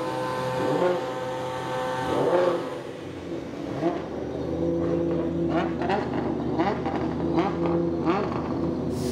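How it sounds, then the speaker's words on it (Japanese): A V8-engined Toyota GR Supra drift car races on a course, its engine revving loud and rising and falling in pitch with repeated throttle surges, heard at moderate distance with crowd-like background noise. "チーム東洋タイヤドリフト GR スープラ V8 エンジン搭載のこのモンスターマシン"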